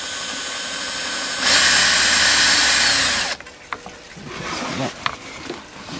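A power drill bores a hole through the centre of a homemade gravity water filter lid over a scrap board, one steady loud whine of about two seconds followed by quieter handling clatter.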